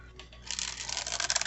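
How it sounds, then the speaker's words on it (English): Tarot cards being shuffled by hand, a soft papery riffling and rustling that builds after a brief pause and continues in quick, close, uneven bursts at low level with no talking. "Let's get some tarot on it here. Let's shuffle."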